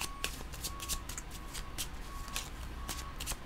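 Tarot cards are shuffled steadily by hand for several seconds, a continuous close riffling with crisp repeated flicks and no talking.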